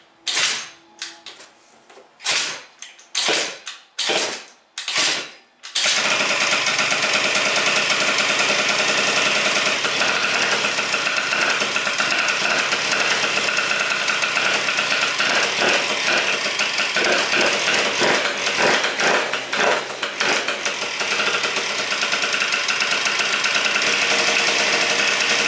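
A Phantom F12 70cc scooter engine cranks with a few sharp chugging starter pulses, then catches and runs continuously in a loud, buzzy, high-revving drone close to the listener, with no talking.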